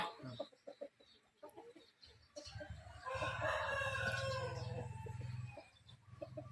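A fighting rooster clucks a few times, then lets out a long, loud crow close by, with low background noise.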